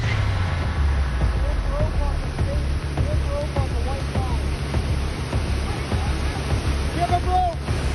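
Fast-flowing, turbulent river water rushing steadily and loudly close by in cold December conditions, a broad continuous roar with brief higher calls or squeals breaking through at moments.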